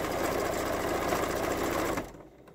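A sewing machine stitches along a fabric face mask strap, buzzing in a fast, even chatter close by before stopping abruptly.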